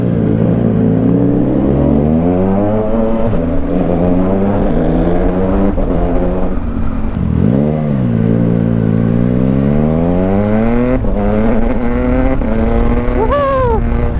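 Triumph Tiger Sport 660 motorcycle with an SC Project exhaust accelerating through several gears, loud close engine revs climbing and dropping with quickshifter changes, brief gaps between shifts, heard from the rider's position with wind noise.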